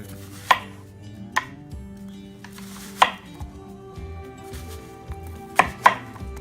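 A knife slicing onions into rings on a cutting board, six or so sharp, separate chops spaced irregularly over several seconds, close and clear with no talking.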